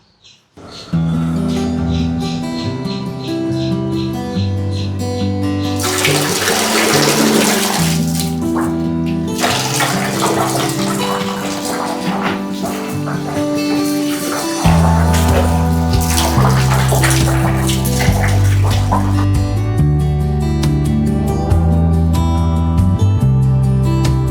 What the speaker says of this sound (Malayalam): ഫൗണ്ടൻ എങ്ങനെയാണ് വർക്ക് ചെയ്യണതെന്ന് ഇപ്പോൾ കാണാം